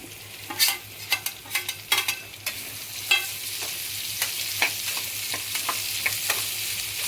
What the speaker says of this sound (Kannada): ಆನಂತರ ಈರುಳ್ಳಿ, ಹಸಿಮೆಣಸಿನ್ಕಾಯಿ ಫ್ರೈ ಮಾಡ್ಕೋಬೇಕು.